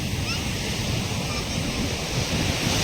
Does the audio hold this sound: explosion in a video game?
no